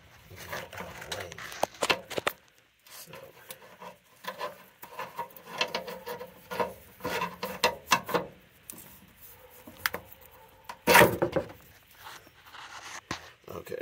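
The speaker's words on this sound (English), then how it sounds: "I'm going to try to just use a pry bar by itself and see if I can't just pry it up and get it out of the way." A pry bar scrapes and grinds against a brake hose clip at the rear brakes of a 2004 Dodge Ram 1500 pickup, giving close, irregular metallic rubs and clicks with a sharp clunk near the end.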